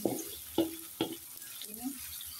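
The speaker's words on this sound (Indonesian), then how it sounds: "kita akan aduk-aduk sampai dengan matang ya pemirsa, sampai kekuningan nanti untuk bawang merah bawang putih" Shallots and garlic frying in a pan are stirred with three distinct scraping strokes in quick succession, then a quieter sizzle continues, faint and close.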